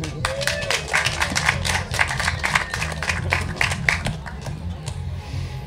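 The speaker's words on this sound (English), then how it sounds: "Big round of applause" An audience at a festival talk gives a steady round of clapping that stays dense for several seconds and then thins out, with faint voices mixed in.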